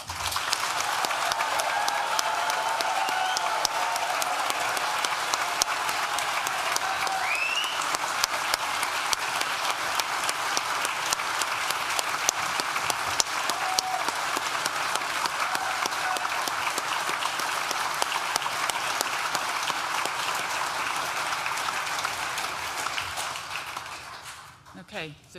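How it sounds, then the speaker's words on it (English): A large audience gives sustained, rousing applause for graduates at a Nottingham Business School graduation ceremony, a thick, even roar of clapping lasting over twenty seconds before tapering off abruptly. "I'm hoping that they're going to lead this really rousing round of applause for our graduates"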